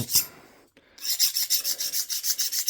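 A metal file rasps back and forth over a hardened steel blade for a deer-antler-handled table knife, starting with one short stroke, then a pause, then a steady run of rhythmic close-up strokes.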